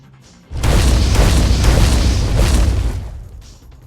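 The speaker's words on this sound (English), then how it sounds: "You basically shoot 3 fireballs, which hits the opponent and burns them." A HeatBlast fireball attack in the Roblox game A Universal Time erupts as a loud, roaring, booming blast that swells suddenly, holds for about two and a half seconds with pulsing surges, then fades out, with no voices.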